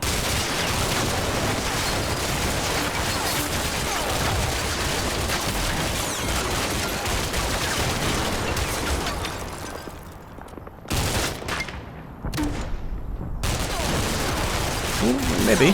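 Dense gunfire from the Combat Mission: Cold War video game keeps up for most of the stretch as a rolling, overlapping fusillade of shots, then drops into brief gaps before more bursts. Someone talks over it.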